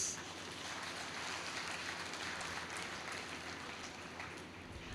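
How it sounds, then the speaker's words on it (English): A crowd at a church jubilee celebration gives a round of applause for the bishops, a steady wash of clapping, fairly soft and continuous without voices. "with a round of applause"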